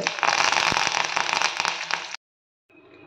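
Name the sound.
chana dal and urad dal frying in oil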